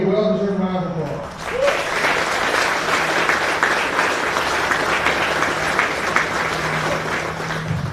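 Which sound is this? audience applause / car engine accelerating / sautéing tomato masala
audience applause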